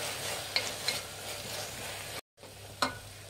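Finely chopped carrot fries in a pan, producing a soft continuous sizzle with a few brief stirring clicks and a short silent gap, and no talking.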